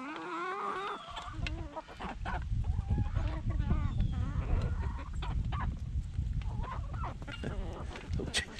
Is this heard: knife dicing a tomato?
no